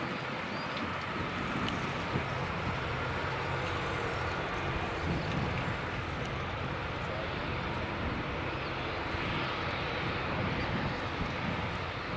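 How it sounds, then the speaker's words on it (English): A Smartwings Boeing 737-800 airliner taxis at an airport in a continuous broad jet roar, steady and distant, mixed with wind buffeting the microphone. "Smartwings 737-800 operating for Eurowings, just taxiing out there"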